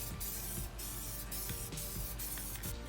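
Dye sprayed from an aerosol can onto the console cup holder of a Foxbody car, a steady close hiss interrupted by brief pulses as the coat goes on, with no talk.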